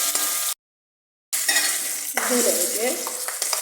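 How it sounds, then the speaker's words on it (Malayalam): Fenugreek and chillies frying in oil in a pan, stirred with a spoon: close sizzling and scraping with a few clinks, a short pause in the middle, and a brief spoken word. "നല്ലപോലെ ഇളക്കണം."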